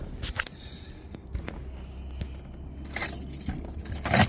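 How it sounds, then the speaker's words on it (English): Keys jangle in several short metallic bursts close by, with small clinks and handling sounds between them, near a car being worked on outdoors. "Grab some keys real quick."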